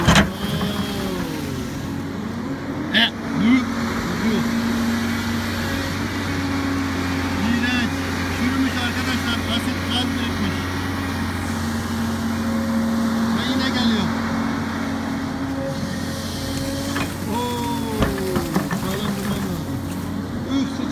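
A Daewoo truck at a construction site with heavy machinery runs with a steady low engine drone and rattling vibration throughout, close and continuous, while someone talks intermittently over it.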